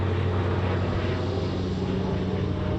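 A fixed-wing airplane passing low overhead on the approach path near an airport, a steady, loud engine roar with a deep rumble that holds constant throughout, heard from a community garden.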